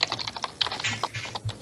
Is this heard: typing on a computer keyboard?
yes